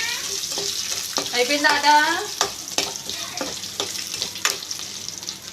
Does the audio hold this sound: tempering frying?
yes